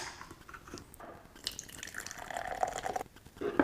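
Brewdog Punk IPA beer being poured into a glass, a soft liquid trickle and drip building toward fizzing foam, fairly quiet and close with no talking.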